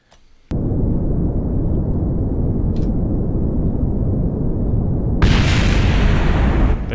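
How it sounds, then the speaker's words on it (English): A dropped rocket stage explodes in the video game Kerbal Space Program, a loud, sustained roaring blast that starts suddenly and swells again partway through, with no speech. "Let's let that drop below us and go bang."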